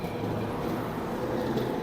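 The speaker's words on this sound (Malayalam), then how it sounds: "ഇതുണ്ടോ ബെൻഡിഗോയിലെ ട്രാം കണ്ടോ?" A tourist tram in Bendigo rumbles steadily along its rails, a continuous low mechanical drone with faint wheel noise, close and fairly loud, with no talking.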